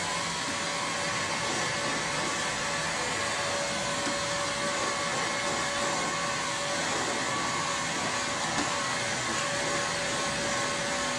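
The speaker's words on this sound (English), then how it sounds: "Heat gun on high." A heat gun set to high blows without a break during a ClearPlex film installation, giving a close, even, loud roar of hot air like a hair dryer that holds steady from start to finish.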